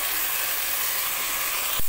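Spice paste for dum aloo fries in a pan with a loud, continuous hiss and sizzle, ending in a sudden dull knock.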